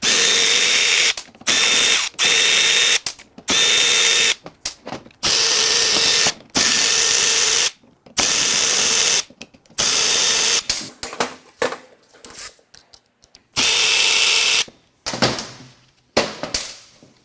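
Ratcheting tools work at a Ford 1.5L three-cylinder Ecoboost oil pump from a 2021+ Bronco Sport/Escape, heard as close, loud bursts of clicking and whirring separated by short silences, later giving way to scattered lighter mechanical clatter.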